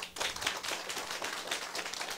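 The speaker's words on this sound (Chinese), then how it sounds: "甲拍手的" An audience at a seminar claps together, a steady patter of many hands applauding for about two seconds, moderately loud and without voices.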